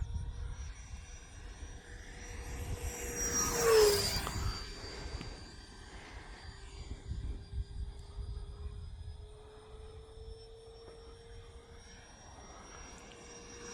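E-flite Viper 70mm electric ducted-fan RC jet airplane flying on a sunny day at a model airfield, a whooshing whine that swells loudly as it passes close around four seconds, then fades to a distant hum with a steady tone.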